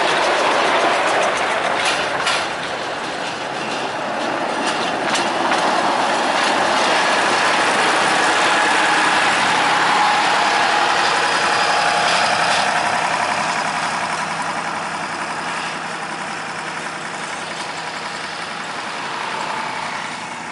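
Four sugar mill locomotives, one of them a locally built No. 7, rumbling out together along the rails toward the plantation at PG Semboro. A continuous loud engine drone and clattering wagons run throughout, with no talk.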